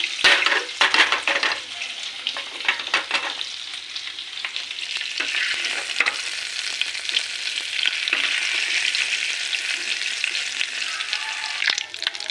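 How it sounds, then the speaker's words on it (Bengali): Cumin seeds and a bay leaf sizzle and crackle in hot oil in a wok, a continuous close frying hiss broken by scraping stirs and small clatters. "তেল আমার গরম হয়ে গেছে এবার আমি একটু জিরা সম্বর দিয়ে দিলাম আর একটা এই একটু তেজপাতা দিয়ে দিলাম"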